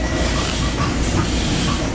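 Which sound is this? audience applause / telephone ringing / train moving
train moving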